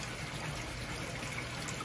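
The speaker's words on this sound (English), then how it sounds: "water spilling over, even past the little escape valve that I drilled in there" Water from a blocked koi pond bog filter spills over its edge and past a small drilled escape outlet, a steady, soft trickling stream that runs evenly throughout with no voices.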